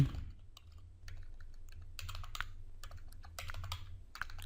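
Rapid computer keyboard typing in irregular bursts of key clicks with short pauses, close and fairly quiet over a low steady hum, no voices.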